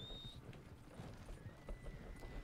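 Horse hooves walking in Red Dead Redemption 2, a soft, steady clip-clop under faint ambient game sound, with a brief high tone at the start.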